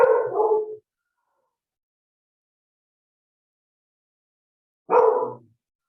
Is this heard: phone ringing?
no